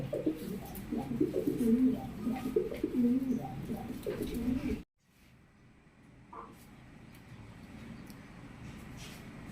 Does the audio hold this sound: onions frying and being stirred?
no